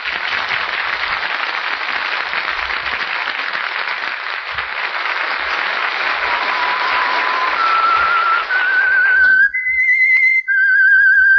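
Signature whistled theme of the 1946 radio mystery drama The Whistler: a sustained orchestral swell fades out, then a lone, clear whistled melody rises in stepped notes, loud and prominent.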